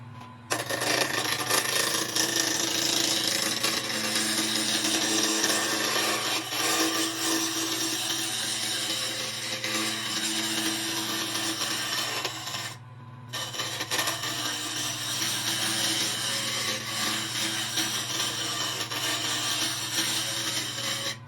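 White oak table legs being turned on a wood lathe: a continuous whirring hum with steady scraping from the cutting tool, loud and unbroken except for one short pause partway through, with no talking.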